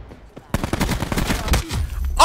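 Rapid SWAT RFT rifle fire in Black Ops 4, a loud burst of close repeated gunshots after a brief quiet start, with a short pause and another shot near the end.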